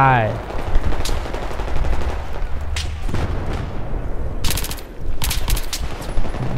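P90 submachine gun fire in the shooter game Battlefield 3, rapid loud bursts close by with sharp separate shots in the second half, mixed with battlefield noise and a voice talking.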